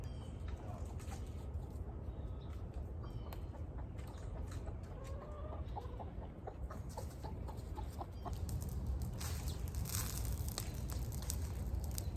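Hens clucking inside a chicken coop, soft repeated clucks and coos over a steady noisy background, fairly distant and faint.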